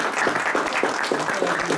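An audience at an agricultural training session on cattle genetics breaks into steady, moderately loud applause, the claps blending into a continuous patter.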